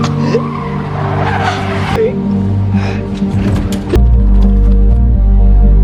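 A car driven fast and in a panic, loud and continuous, with a steady engine roar and screeching tyre skids. A heavy low rumble swells near the end.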